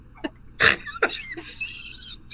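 A person gives a short nasal snort up close, part of a few brief breathy bursts in an otherwise quiet room.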